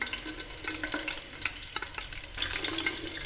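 Whole cumin seeds and black peppercorns frying in hot oil for a Lahori chana breakfast dish, a steady close sizzle with bright crackling spikes that swell louder toward the end, no voices.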